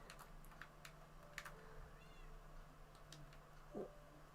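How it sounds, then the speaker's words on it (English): A Minecraft cat meows in a video game, a single faint mew late in the clip over a low background hum with scattered keyboard-like clicks. "There's a Minecraft cat."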